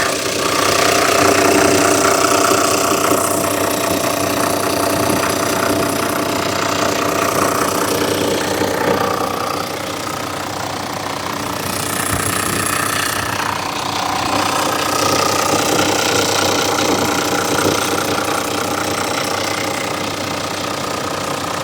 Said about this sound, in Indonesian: Kita langsung starter agar teman-teman bisa lebih dekat dengan suara kegurihan dari mobil mesin Land Cruiser ini